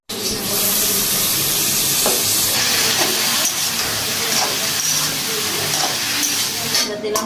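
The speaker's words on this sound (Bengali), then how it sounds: "পেঁয়াজটা ভাজা ভাজা হয়ে গেছে, এবার আলুটা দিয়ে আলুটা একটু ভাজা ভাজা হবে" Potatoes and onions frying in a pan, a loud continuous broadband hiss and sizzle close up with occasional stirring scrapes.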